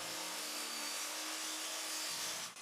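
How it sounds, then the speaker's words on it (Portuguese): A miter saw cuts wood pieces to length for a step stool, a steady high whine running loud and unbroken through almost the whole stretch before dropping away at the end. "Depois cortei-os no tamanho certo na serra de meia esquadria."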